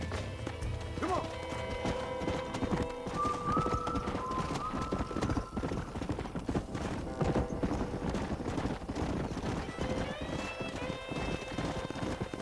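Steady clip-clopping of a stallion's hooves in Red Dead Redemption, a running rhythm carried under the game's music and ambience, with brief voices talking.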